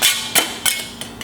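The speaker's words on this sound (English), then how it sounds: "I'm just going to kind of go over the back of this and chip off any of those little pieces of metal" A knife chipping leftover bits of metal off the back of a plasma-cut metal cutting board gives four or five sharp, close scraping clicks spaced irregularly, the first loudest, with no talk.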